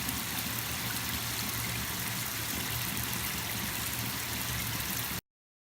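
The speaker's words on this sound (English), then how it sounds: "I used my shower to make a rain sound effect" Shower water spraying steadily as a home Foley stand-in for rain, a dense continuous hiss that runs evenly and close, then cuts off abruptly near the end.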